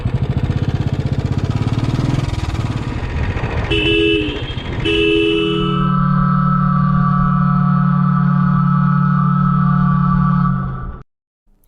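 Horns honk on a busy road during a motorcycle road-rage encounter with a car: two short blasts over engine noise, then one long sustained honk that cuts off abruptly.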